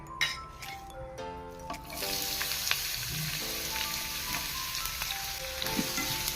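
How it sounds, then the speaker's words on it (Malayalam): Chopped onion and green chilies hit hot oil at about two seconds, bursting into a loud steady sizzle after a few clinks, with a pan-bound frying hiss carrying on to the end, no talking. "ഇനി അരിഞ്ഞു വെച്ചിരിക്കുന്ന സവാളയും പച്ചമുളകും ഇതിനകത്ത് കൂട്ടി കൊടുക്കാം"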